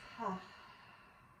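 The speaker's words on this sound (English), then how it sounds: "And big exhale, release." A single deep exhale during Pilates core-breathing, a soft, brief breathy rush near the mic that fades quickly into quiet.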